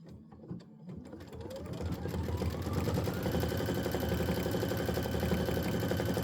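An Aveneer embroidery machine starts with a few taps, then builds into a steady, dense mechanical whir of rapid stitching that runs on evenly and close by.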